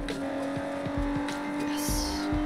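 Car racing in the video game Sleeping Dogs, a steady engine drone with a high sustained whine and brief tire-squeal and impact sweeps, loud and continuous throughout.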